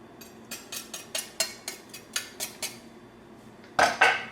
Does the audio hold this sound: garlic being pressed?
yes